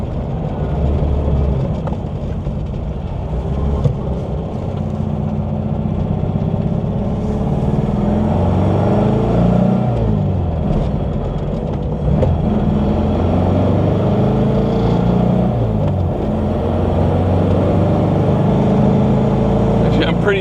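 A 1968 Porsche 911 coupe, a wide-body RS tribute with a 5-speed 901 transmission, driven at about 65 mph: a loud, continuous engine drone with a slowly rising pitch and steady road and wind noise, heard from inside the car.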